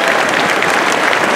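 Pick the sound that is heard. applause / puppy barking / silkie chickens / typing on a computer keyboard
applause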